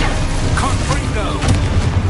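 A Confringo fire-blast spell from Hogwarts Legacy: a short burst of booming, crackling impact noise that stays loud and steady throughout, with a voice faintly mixed in.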